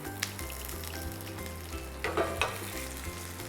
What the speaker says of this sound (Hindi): इसके अंदर जाएगी बारीक कटी अदरक, स्वाद अनुसार हरी मिर्च और कड़ी पत्ता